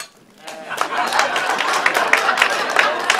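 An audience at a stand-up comedy show bursts into applause and scattered cheering, starting after a brief quiet moment and holding steady at moderate volume for a few seconds.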